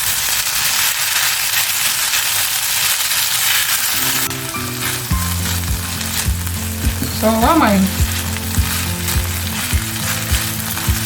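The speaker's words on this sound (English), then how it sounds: "the fish fry filler is still frying" Constant hissing sizzle of fish pie filling frying in a pan, with scraping and stirring clatter partway through and a brief spoken word.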